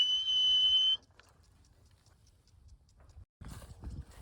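A person gives one sustained, high, steady whistle to call horses, then the whistle stops and only faint ticking and soft hoof-like taps remain.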